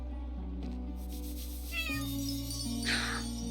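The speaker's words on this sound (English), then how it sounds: "There is a cat." A cat meows several times in the video game Chained Echoes, clear mid-pitched calls over a steady game music bed, with one brighter, louder meow near the end.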